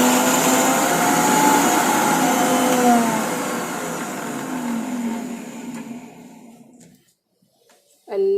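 A mixer grinder whirs steadily and loudly while grinding herbs for a homemade hair oil, its motor pitch sliding down as it winds to a stop, followed by a short burst of speech.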